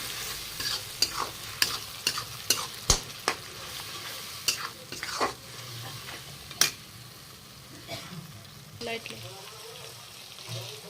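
Ginger, garlic, green chili, cumin and coriander paste sizzles in hot oil as a spatula strikes and scrapes the pan in quick repeated clacks, then settles into a softer fry.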